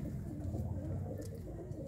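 A hand-held female pigeon gives a brief, low, murmuring coo, quiet and close, over faint background rumble.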